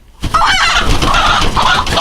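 A broody black hen of an Americana and Brahma mix clucks loudly and close, a continuous grumbling, drawn-out cluck with no talk over it.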